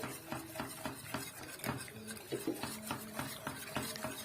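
A spoon stirs béchamel sauce steadily in a dry pot on a gas stove, with repeated soft scraping strokes and light clinks, close by and without any talking.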